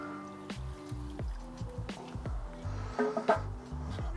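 Milk tipped into a thickening cheese sauce, with wet glugging, dripping and squelchy stirring sounds in soft uneven bursts, close by and fairly quiet.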